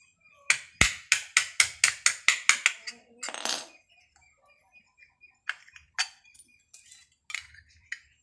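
Rapid metallic tapping, about a dozen evenly spaced strikes, punches a hole through the middle of a sheet, followed by a few scattered lighter taps with quiet gaps between and no voices.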